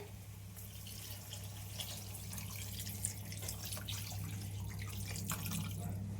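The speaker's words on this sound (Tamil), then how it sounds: "இப்போ வந்து தண்ணி ஊத்திக்கிறேன்" Water runs and splashes into a cooking pan of turmeric and chili powder in a home kitchen, a soft, continuous trickle with light drips over a low steady hum.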